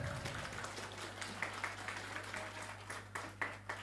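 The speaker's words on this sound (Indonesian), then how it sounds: "Tepuk tangan buat anak-anak kita" Audience applause for children at a monthly neighborhood Islamic study gathering, a steady, fairly faint patter of many hands over a constant low electrical hum.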